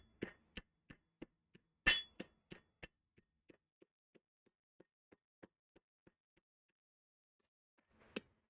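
Hammer blows on metal at a smithy anvil while putting a bevel on a workpiece: a rapid series of sharp ringing strikes, one heavier, that slow and soften into lighter taps, then a pause and a final single clink.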